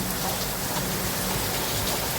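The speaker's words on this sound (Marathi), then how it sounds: "छोटासा प्रयत्न तुमच्यापर्यंत हा पाऊस पोहोचवण्याचा." First monsoon rain of the season falling in Maharashtra, a steady dense hiss of drops on surfaces throughout, even and continuous with no voices.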